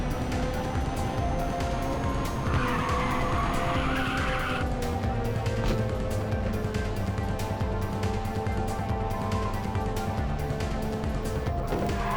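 Car tyres squeal and skid through a drift in the PSP racing game Ridge Racer 2, a loud continuous screech over a steady engine roar.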